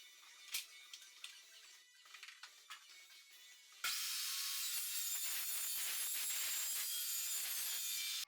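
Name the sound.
abrasive saw cutting metal for welding table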